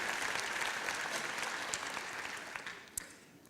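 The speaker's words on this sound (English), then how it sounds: "I think you should give yourselves a round of applause for getting here so early" An audience at an International Women's Day celebration in Ireland applauds, a dense crackle of many hands clapping together that slowly fades over a few seconds.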